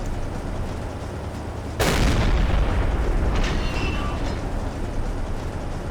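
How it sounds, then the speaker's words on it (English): Ship explosion in the submarine warfare game Silent Hunter 3, a sudden loud boom breaking over a steady low rumble of sea and engine noise, then a long rolling roar with faint metallic creaks ringing through it. "Something exploding."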